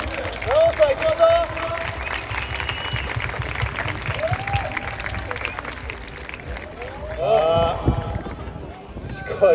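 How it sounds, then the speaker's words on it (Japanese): Spectators at a friendly football match applaud. Scattered clapping mixes with crowd noise and close voices calling out, and a brief swell of cheering comes near the end. "皆さん拍手"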